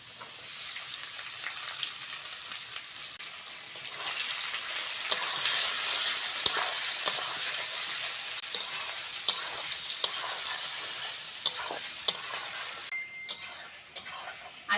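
Chopped onions and potatoes frying in a pan while being stirred, a continuous crackling sizzle with sharp spatula scrapes and taps recurring every second or so, close and unaccompanied by speech.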